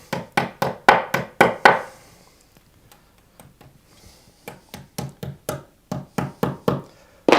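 Plastic wall plugs tapped into a brick wall while mounting an electric radiator: quick series of sharp, close knocks in two bursts separated by a quieter pause with a few light taps.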